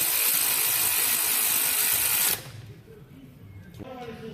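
Bolts for Comp Cams roller rocker arms on a Monte Carlo SS engine being installed with a ratchet: a loud, steady mechanical whir and clicking for about two seconds, then a sudden drop to quiet handling noises.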